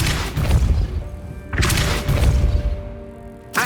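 Depulso force-push spell cast in the Hogwarts Legacy game, a couple of loud whooshing impacts with bright bursts and a ringing tonal tail, set against ambient game sound.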